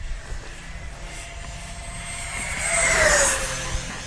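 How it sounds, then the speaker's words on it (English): A Freewing PJ50 radio-controlled model jet flies past at full throttle, its small jet engine's whine swelling to a loud peak near the end with a falling pitch, over steady outdoor rumble. "Let's go full throttle, coming by hot here."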